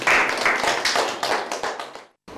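Children clap their hands for the winning team at a quiz contest, a loud, close burst of rhythmic clapping that stops abruptly near the end.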